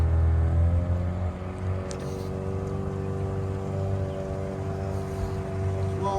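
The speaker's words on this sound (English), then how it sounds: "See when I rev it up if we get a little bit more." A Mercury 9.9 outboard motor running steadily and revving slightly, a close, loud, continuous droning hum with a fault of charging voltage running too high.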